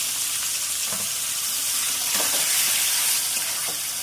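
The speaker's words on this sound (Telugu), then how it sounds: "ఒక్క నిమిషం వీటిని ఫ్రై చేసేసుకోండి" A steady, dense sizzle of pumpkin pieces frying in a pan fills the whole stretch, with faint scrapes of stirring now and then.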